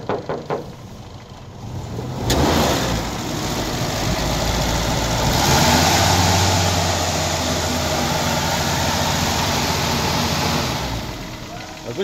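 A 1990 Toyota Kijang Super engine idles with a steady, low rumbling hum that rises after a sharp click and holds constant, with voices talking underneath.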